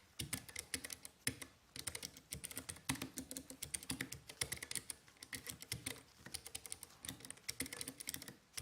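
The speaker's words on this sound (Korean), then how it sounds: "먼저 K7 청축 소음입니다." A Keychron K7 low-profile Bluetooth keyboard with hot-swap optical blue switches is typed on close up, giving a rapid, continuous run of crisp clicky keystrokes with no talking.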